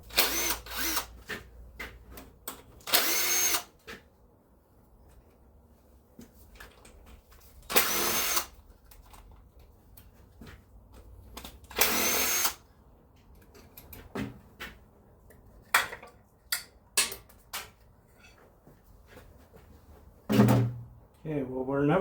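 Power drill spinning out 10mm bolts from lifter trays on a 1995 Camaro engine, several short loud whirring bursts separated by quiet pauses, clinks and small tool knocks close by.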